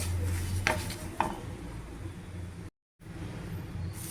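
Coriander seeds, chana dal, curry leaves and tamarind being dry-roasted in a pan for garlic karapodi, with soft stirring scrapes and a couple of sharper clinks over a low background hum.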